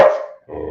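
A dog gives a single close, loud bark, then a short lower follow-up yip or grumble after a brief gap.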